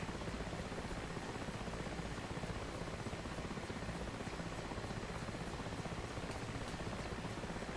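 Steady, dense rotor and turbine roar of an Mi-8 helicopter in the flight simulator game DCS, continuous and even from start to finish with no speech.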